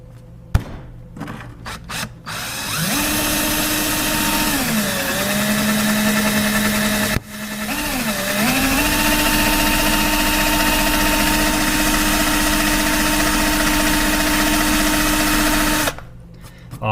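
An electric drill bores holes in a fuse and relay panel, whining steadily for about thirteen seconds. Its speed dips and rises midway, with a brief break, before it stops. There is no talk.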